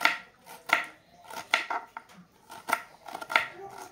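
A knife chopping bitter gourd (karela) on a board, with close, crisp cuts in an uneven rhythm, about a dozen strikes, and brief pauses between them.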